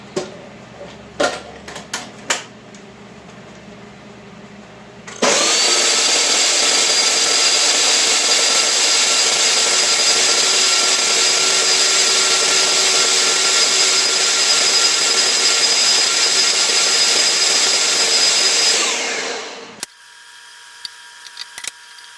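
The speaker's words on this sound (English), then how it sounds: "Now we're just going to blend this down and make our nut milk first." A blender whirs loudly and steadily for about fifteen seconds while blending nuts into homemade nut milk, starting and stopping abruptly, with brief handling clicks before and after.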